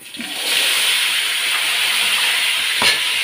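Potatoes tipped into hot oil set off a sudden, loud, continuous hiss that starts after a brief splashy entry and holds steady up close, with no talking.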